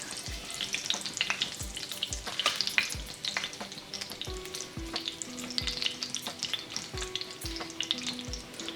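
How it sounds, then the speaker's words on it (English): Cumin seeds sizzle in warm oil in a pan, a steady close crackle broken by repeated soft scrapes and taps of a stirring spoon, with no talking. "Now that the oil is warm, I'll be adding my cumin seeds, saute it for less than 30 seconds."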